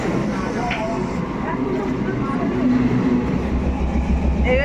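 A train running on rails during a passenger journey, a steady low rumbling rolling noise that holds throughout and swells slightly near the end, with faint voices in the carriage.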